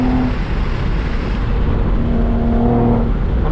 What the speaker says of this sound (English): now we're getting traffic